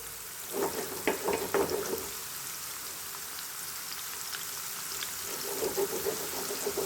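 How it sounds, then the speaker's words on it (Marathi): Raw banana slices deep fry in oil for chips, giving a soft, steady bubbling hiss with a few louder crackling bursts near the start and again toward the end. "आता ह्याला चांगलं तळू द्यायचं"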